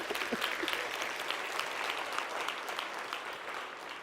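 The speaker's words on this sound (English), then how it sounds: "You can clap." An audience at a conference closing session claps in a continuous, moderately quiet round of applause, with a few sharper individual claps standing out early on.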